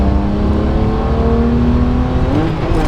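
A BMW E90 335i pulls hard under acceleration with a slipping clutch, the engine droning loud and steady as its pitch creeps upward, then climbs faster near the end without a matching surge.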